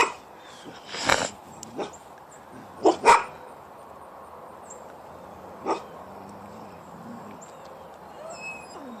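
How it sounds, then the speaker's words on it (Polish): A dog barks several times at a strange creature in a quiet outdoor night setting, a few sharp loud barks early on followed by a single fainter bark, over low background hiss. "nawet pies zaczął na nią reagować, szczekał i obserwował z bezpiecznej odległości"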